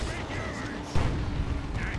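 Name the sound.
Assault Cannon barrage in Dawn of War 2 video game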